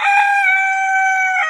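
Golden Misri rooster crowing on a farm, a single long sustained crow with bright harmonic tones, close and loud, no other sounds.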